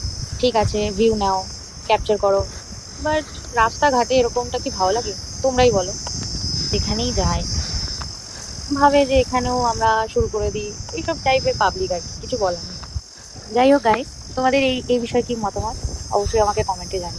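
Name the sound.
crickets chirping along the road at night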